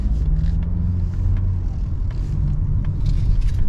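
A 2022 Mazda CX-50 SUV with its turbo engine in sport mode, heard from inside while pulling onto a highway: a continuous low engine and road rumble that grows slightly louder, with faint whooshing rising near the end.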